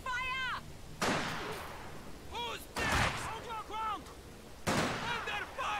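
Gunfire in the wartime strategy game Company of Heroes 2: several sharp, loud single shots spaced a second or two apart, each with a short echoing tail, with voices speaking between them.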